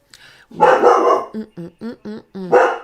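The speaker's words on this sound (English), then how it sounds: "She could be barking at a leaf these days." A dog barks about five times in a quick, loud series close by, each bark sharp and evenly spaced, following a burst of louder barking and a raised human voice.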